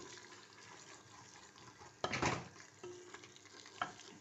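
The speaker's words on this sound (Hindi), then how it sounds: "अब ये धनिया डाल के भूनना है।" Coriander is fried with mutton in a karahi, a soft continuous sizzle under which a sudden louder burst of hissing and stirring rises midway, followed by lighter scrapes, with no voices.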